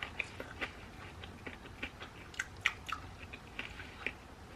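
Close crunchy chewing of a sandwich made with crunchy spread and raspberry, a series of sharp crisp bites and mastication clicks spaced irregularly, with no talk over it.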